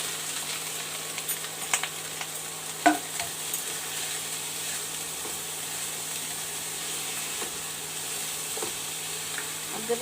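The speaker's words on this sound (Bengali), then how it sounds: "এবার আমি কলাই শাকটা দিয়ে দেবো।" Kalai greens being stir-fried in a pan with ginger, a steady moderate sizzle with repeated scraping and tossing of a spatula, one sharper clank partway through.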